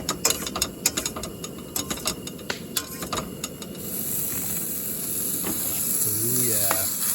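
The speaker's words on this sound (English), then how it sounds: "They're sizzling and a steaming." Chicken of the woods mushrooms sizzle in butter in a hot pan, a steady crackling fry with scattered sharp pops and clicks early on, growing into a denser, louder hiss toward the end.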